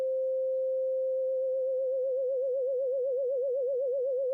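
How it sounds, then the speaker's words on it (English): A Hydrasynth synthesizer oscillator produces a steady pure tone that gradually gains a wobbling pitch modulation, the vibrato growing smooth and regular as it continues, with no other sound. "changing depth just lets us hear pitch modulation."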